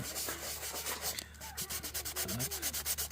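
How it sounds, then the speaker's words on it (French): Sandpaper rubs quickly back and forth over the area around a puncture on a fat bike inner tube, an Engwe X26, in a close, rhythmic series of rasping strokes, with no talking. "Quand vous avez repéré la fuite, il va falloir poncer la zone."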